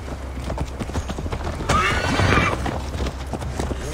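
Horses' hooves clop steadily in Assassin's Creed Valhalla as riders set out toward Tamworth, a close rhythmic beat with a brief whinny midway and faint talk underneath.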